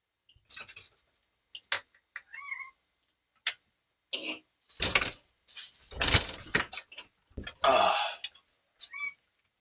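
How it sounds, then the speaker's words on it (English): A pet cat indoors gives a few short, close meows between scattered bumps, clicks and rustling; no one speaks. "now you're going to hear a bunch more meowing"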